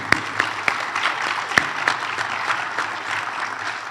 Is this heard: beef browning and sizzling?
no